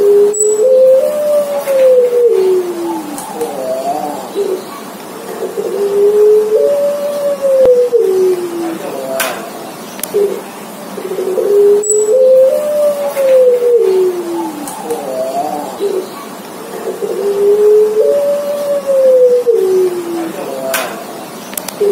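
A turtle dove, or burung puter, coos after treatment to stop its guguk call fault, giving repeated rolling phrases with short gaps between them, loud and close against a quiet background.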